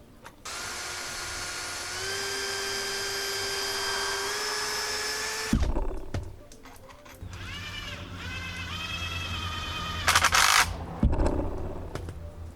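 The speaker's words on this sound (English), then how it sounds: "So we're drilling the hole for the wood first." A power drill bores holes in wood for deck screws on a tropical compost bin build, with a steady high whine for about five seconds, then shorter revving bursts and pauses, close and loud.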